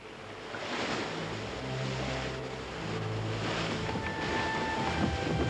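Wind and waves at sea aboard a sailing ship give a steady broadband wash of surf and gusts, with faint tonal creaks and whistles under it and no talking.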